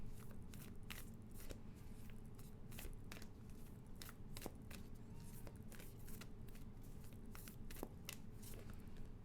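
Astrology cards being shuffled by hand at close range, a quiet, steady run of crisp riffling clicks and flutters repeating throughout without talk.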